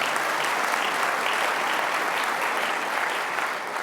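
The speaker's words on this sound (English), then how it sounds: "Well, first clap." A conference audience at a European ad-tech summit breaks into steady, dense applause, many hands clapping together at an even level throughout with no voices standing out.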